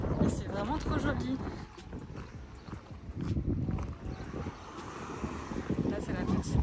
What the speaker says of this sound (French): Je sais pas si vous allez bien m'entendre, je ne pense pas, il y a un tout petit peu de vent.